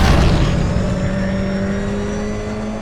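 Race cars on a circuit after a crash roar close by, one engine loud at first and then fading slightly, with steady tonal whine from the drivetrains.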